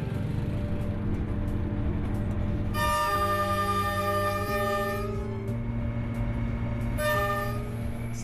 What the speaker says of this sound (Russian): начинаешь прислушиваться к звукам поезда